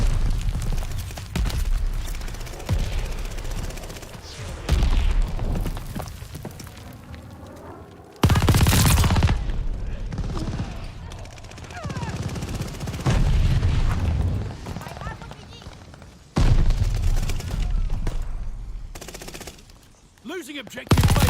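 Mortar shells and machine-gun fire boom and rattle in a Call of Duty Vanguard hardcore multiplayer match, heavy blasts breaking in repeatedly amid steady gunfire, loud and close, with no talk.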